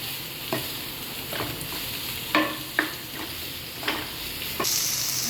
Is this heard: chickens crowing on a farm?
no